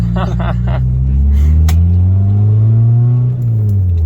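A diesel 65 hp Renault Clio 2 engine revs up loudly and climbs in pitch, its deep rumble filling the clip while people talk briefly over it.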